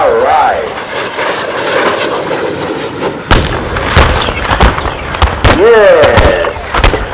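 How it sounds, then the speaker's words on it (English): A MiG-15 jet fighter roars past at a Dunsfold air show: a loud, sweeping engine rush that swells and shifts pitch as it passes, punctuated by sharp cracking bangs in the second half, with a commentator speaking over it. "Here we go, from your right, ladies and gentlemen, the MiG-15."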